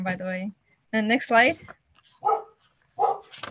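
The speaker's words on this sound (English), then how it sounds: "Sorry if you hear my dog in the background" A dog barks in the background during an online science project presentation, with short bursts between a person's speech.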